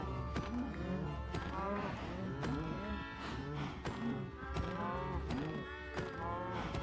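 Several Minecraft video game cows moo repeatedly in overlapping low calls, with occasional soft taps, a steady barnyard chorus at moderate volume.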